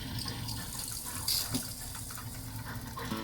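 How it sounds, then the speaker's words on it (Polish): Water runs steadily as a camper van's water pump fills and its heater starts, a continuous rushing hiss with a faint mechanical hum beneath it. "Pompa dopompuje nam wodę, włącza nam się woda, uruchamia się piec."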